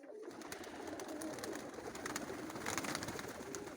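A continuous chorus of pigeons cooing at a loft, soft and layered, many birds at once with steady background noise.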